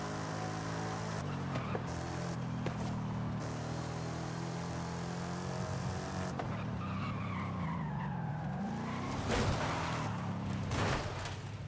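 A car understeers in the Forza racing game, with a long, loud tire squeal and skid over a droning engine that shifts pitch midway as the slide continues.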